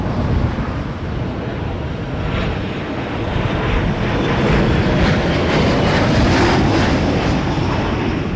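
A Boeing 737-800 jet airliner in Swoop livery roars steadily at close range, its broadband engine noise swelling louder toward the end, with wind buffeting the microphone throughout.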